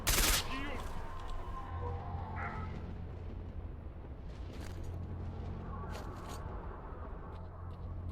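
A sharp gunshot from a weapon in S.T.A.L.K.E.R. Shadow of Chernobyl opens, followed by quieter scattered reports and a low droning ambience through the rest.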